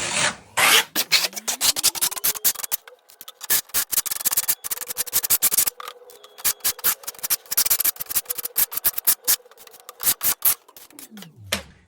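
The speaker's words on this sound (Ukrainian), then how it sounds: "Наносимо рівномірно в товщину зерна." Acrisyl decorative facade plaster with 0.6 mm grain is spread evenly on a wall with a trowel, giving close, repeated rough scraping strokes in quick bursts separated by short pauses.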